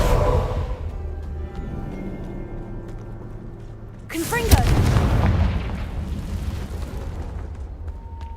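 A Confringo fire spell in Hogwarts Legacy lands with a sudden booming blast and crackling burst partway through, then a rumbling decay, over low game ambience and a voice speaking.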